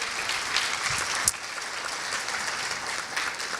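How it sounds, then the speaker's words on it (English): Audience applause fills the hall at a medical talk on multiple sclerosis therapies and pain management, a steady dense wash of many hands clapping throughout, with one sharp louder clap standing out partway through. "So a round of applause to Memorial Health."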